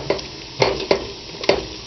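Spoon scraping and stirring flour into hot fat for a chicken sausage filé gumbo roux in a pot, four distinct strokes in an uneven rhythm over a soft sizzle, close and alone.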